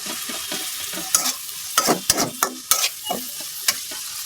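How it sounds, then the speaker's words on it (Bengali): An onion and cumin paste fries in oil in a pan, giving a soft steady sizzle broken by repeated sharp scraping strokes of a spoon stirring it, close by with no talk. "বাটাটা হালকা একটু ভাজলাম।"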